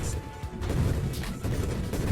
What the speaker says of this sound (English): Hope y'all like explosion noises, because they're going to be non-stop.